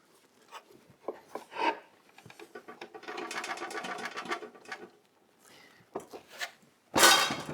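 Chaff being shaken out of the roasting chamber of a Hottop KN-8828B-2K coffee roaster: scattered light rattles and clinks, a sustained busy stretch of shaking in the middle, then a loud harsh burst near the end, close by with no talk.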